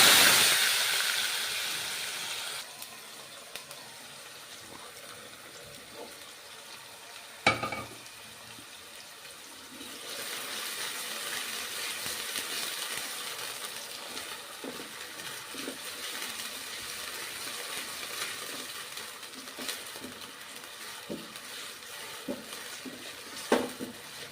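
Potato pieces dropped into hot oil with asafoetida, a sharp sizzle bursting at first then settling into a steady frying crackle with occasional stirring clinks against the pan, close and continuous.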